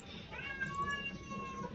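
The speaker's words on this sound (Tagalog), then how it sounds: "May pusa." A cat meows in the Growtopia game's surgery mode: one drawn-out, moderately loud meow over a steady bed of background game sound.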